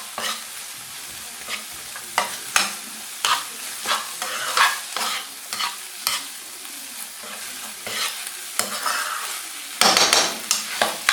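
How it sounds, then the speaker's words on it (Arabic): Pizza topping with thyme is stirred in a pan for a liquid-dough pizza, giving repeated scraping strokes over a low sizzle, close and fairly loud, with a sharper clatter near the end. "وغادي ندير شويه ديال الزعتر، صافي غادي نبدا نحرك هذا الشيء."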